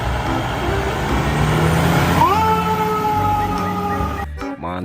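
A toy fire truck siren wails with electronic tones that sweep and shift in pitch, then hold steady, over a buzzy mechanical drone. It stays loud and near before stopping suddenly with a few clicks.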